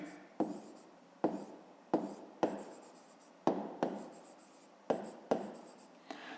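Pen or pencil strokes scratch across paper while a math exercise is worked out, several quiet, separate strokes spread evenly through the quiet with no talking.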